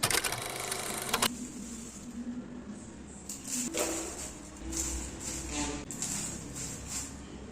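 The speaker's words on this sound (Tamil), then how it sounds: "அப்படியே ஆறினோடனே ஒரு மிக்சி ஜாரில் போட்டு நம்ம பவுடராக்க போகிறோம்" Mixer grinder jar whirring as roasted curry leaf mix is ground into powder, a loud steady motor drone with a harsh burst at the start, then a rougher churning tone with uneven rattling pulses for several seconds.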